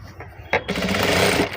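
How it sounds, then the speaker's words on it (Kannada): A sewing machine stitches double-folded fabric, a short quiet start followed by a louder run of rapid mechanical clatter, close by, with a brief voice near the beginning. "ಇವಾಗ ಇದನ್ನು ಸುಮ್ಮನೆ ಈ ರೀತಿ ಡಬಲ್ ಫೋಲ್ಡ್ ಮಾಡಿ ಸ್ಟಿಚ್ ಮಾಡ್ಕೊಳ್ಳೋದು ಅಷ್ಟೇ"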